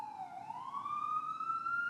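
A siren sweeps slowly upward, rising and holding a steady wail with strong harmonics, loud and continuous for the full two seconds with no talk over it.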